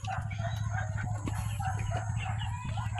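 Native chickens cluck and a large rooster calls nearby, a busy farmyard mix of bird voices over a steady low background hum.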